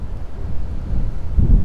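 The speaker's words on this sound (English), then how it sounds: "the wind is whipping through here" Wind buffets the microphone in low, rumbling gusts on an outdoor patio by a bayou, strengthening toward the end of the short clip.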